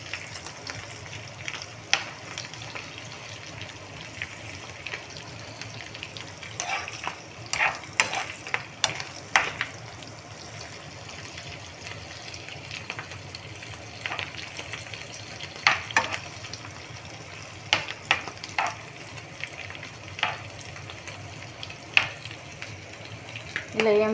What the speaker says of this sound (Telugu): ఇలా అయితే నూనెలో వేంపాలన్నమాట